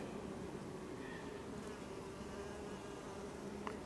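Honey bees buzz steadily at close range while a beehive is inspected in late July, a continuous insect drone with no breaks.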